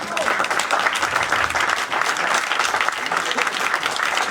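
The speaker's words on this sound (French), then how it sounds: "on peut les applaudir" Audience at a charity fashion show applauding a wedding dress creation, with dense, steady clapping that fills the whole stretch evenly and at close range.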